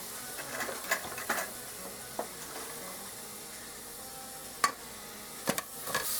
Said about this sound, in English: frying me up some hamburger there.